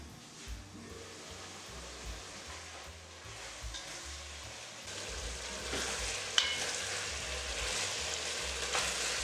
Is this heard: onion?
yes